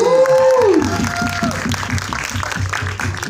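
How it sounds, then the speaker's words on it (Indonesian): An audience claps and cheers loudly at the 2022 trailer launch event for the Indonesian film Qorin, with steady, dense applause rising after a tonal voice or musical note and continuing under a crowd murmur. "beri tepuk tangan yang paling meriah untuk Zulfa Maharani,"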